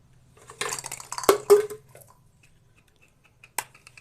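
Child playing with metal plates, pots and kitchen utensils, scattered clinks and clatters in a quick cluster, one sharp bang, then a lone clink after a pause, close and otherwise quiet.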